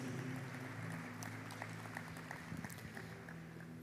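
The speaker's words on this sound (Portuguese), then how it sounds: "glorifiquem a Jesus com suas palmas" A church congregation clapping their hands together, a sustained close wash of applause that carries evenly throughout, with faint murmuring beneath.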